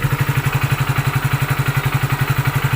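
BS6 motorcycle engine idling after a sensor is reconnected, a close, loud, steady rhythmic thumping of exhaust pulses at a brisk, even idle with a faint mechanical clatter.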